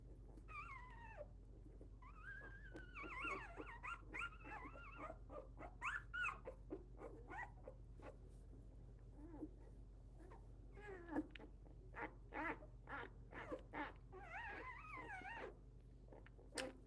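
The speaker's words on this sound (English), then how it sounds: "Again, there's 10 of these puppies, and she's got them growing good." Four-day-old newborn puppies from a litter of ten whimper and squeak in repeated high, wavering cries while nursing on their mother, close by and fairly quiet over a steady low hum.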